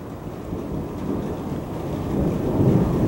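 Deep thunder rumbles steadily and swells louder toward the end, layered with a wash of rain, with no voices.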